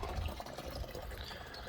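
Water runs steadily from a tap into two watering cans at once, a constant splashing gush without talk.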